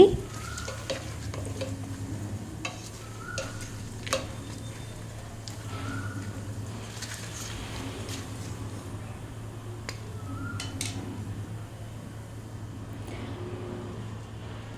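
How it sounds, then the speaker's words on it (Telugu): Sliced onions fry in a pan with coriander and cumin powder for a spicy chicken curry, a steady low sizzle running throughout, punctuated by intermittent scraping stirs and light clinks of a spoon against the pan. "పొడి వేసి వేయించిన తర్వాత ఇందులో ఆనియన్స్ వేసుకోవాలి"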